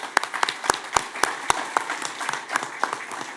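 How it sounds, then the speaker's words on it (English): Applause at a city commission meeting honoring achievers, a modest crowd clapping with distinct sharp individual claps standing out from a lighter patter, fairly close and steady. "Can we give them a round of applause for their achievements?"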